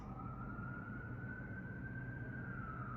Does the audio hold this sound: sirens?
yes